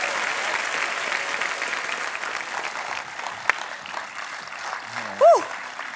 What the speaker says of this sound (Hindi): जोरदार तालियां अनुष्का के लिए